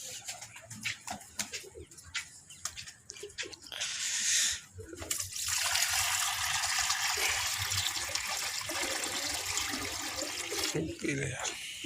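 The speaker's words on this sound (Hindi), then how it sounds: "चलिए यार, पानी डाल देते हैं।" Water is poured out for a flock of pigeons, a steady splashing, gushing stream that starts after some clatter and runs continuously to the end; a voice talks near the start.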